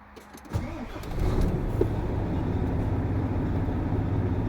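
A 2011 Volvo FH500 truck engine starts up after a brief crank, then settles into a steady, loud diesel idle close by, with no talking.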